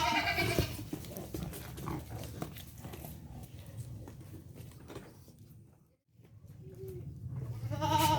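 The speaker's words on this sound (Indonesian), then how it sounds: "peranakan yang diturunkan Panglima Kumbang kambing pejantan yang ada di kandang milik Alung Etawa Farm." Etawa crossbreed goats in a farm pen, offspring of a breeding buck, make scattered bleats and rustling at moderate distance, with a brief quiet gap before louder bleating returns at the end.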